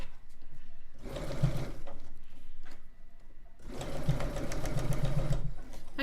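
A sewing machine stitches a mosaic star quilt block in two bursts of rapid, steady whirring and needle clatter, close by, separated by a quiet pause.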